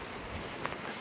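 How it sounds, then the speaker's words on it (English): Slushy mix of rain and snow falls at a homestead, a soft steady patter of wet drops with a faint tap or two, no voices. "It's like raining and snowing."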